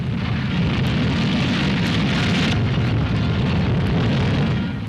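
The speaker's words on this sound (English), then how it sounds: "At White Sands, New Mexico, the huge missile takes off." A captured German V-2 rocket lifts off at White Sands, New Mexico, heard as a loud, continuous broadband roar with a rumbling low end that holds steady for about five seconds before easing slightly, with no voices.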